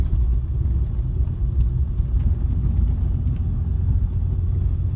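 A 2015 RAM 2500 with a Cummins diesel rumbles through its exhaust in a steady, deep, loud idle-like drone heard up close, with no voices over it.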